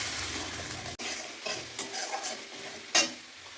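Masala paste, added after onion paste to a pan of fried potatoes, sizzles and is stirred steadily, with a sharp scrape of the spoon against the pan near the end and no talking.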